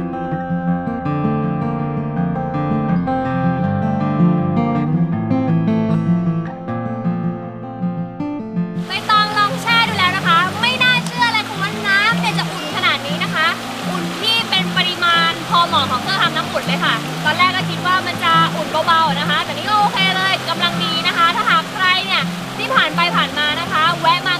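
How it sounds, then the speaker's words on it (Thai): Steady rushing water from a hot-spring waterfall pouring into a natural pool in a forest at Krabi, Thailand, fills the clip; music plays throughout. "เป็นอ่างอาบน้ำธรรมชาติกลางป่ารองรับสายน้ำตก ที่ไหลหลั่นลงมาจา กเนินเขา"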